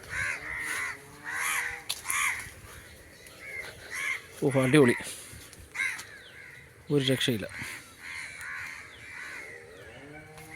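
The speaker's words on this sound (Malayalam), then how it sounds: "മീനൊക്കെ ഉള്ളതുകൊണ്ടായിരിക്കണം കേട്ടോ ഈ കാക്കയൊക്കെ ഇങ്ങനെ നടക്കുന്നത്" Crows cawing repeatedly by a lakeside fish bund on Vembanad Lake, several harsh calls near and mid-distance, mixed with people talking outdoors.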